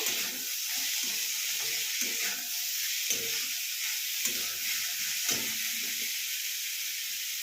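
Shredded cabbage and mixed vegetables fry in a pan for Tibetan thukpa, a steady bright hiss of sizzling oil running throughout, with a soft, muffled voice talking underneath.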